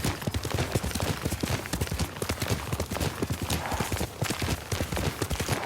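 A horse's hooves clip-clop in quick, steady succession in the Ghost of Tsushima video game, close and clear, with a faint voice in the background.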